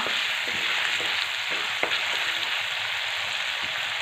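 Green chillies frying in hot oil for a pumpkin dish, a loud, dense, steady sizzle with occasional soft stirring taps, heard alone.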